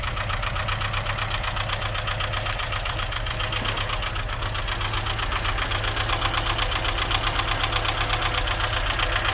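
A VW T25 van engine runs steadily after its first start in 20 years, a rough, knocking idle with continuous mechanical clatter and vibration, close and unbroken throughout, with no voices.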